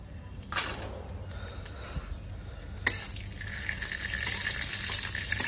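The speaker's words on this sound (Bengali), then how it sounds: "বন্ধুরা কড়াইটা ধুয়ে নেবো, তারপর শাক হবে এটাতে।" Running water pours over a kadai being washed in a kitchen sink, with a steady splashing flow and occasional light metallic clinks, close and moderately quiet.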